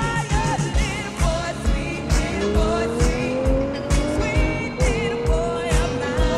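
Ferrari F12 Berlinetta sports car driving hard with tires squealing, its engine note rising through the gears while loud, sustained tire squeal rides over a steady mechanical roar, close and continuous.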